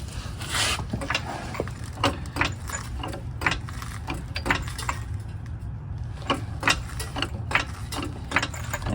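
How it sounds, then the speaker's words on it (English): A car jack is cranked to lift a 2016-2022 Honda Pilot, giving a close, steady run of sharp ratcheting clicks in an irregular rhythm. "So now we're jacking it up."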